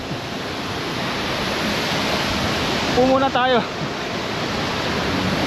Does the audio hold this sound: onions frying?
no